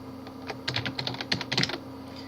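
Close, quiet keystrokes on a computer keyboard as an IP address is typed, a quick uneven run of about a dozen clicks in a short burst with no talking.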